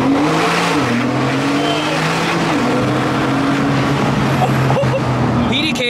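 A 2012 Porsche with a PDK dual-clutch gearbox in sport plus accelerates hard, its engine note rising and shifting through gears, with a few crackles near the end, while people talk over it.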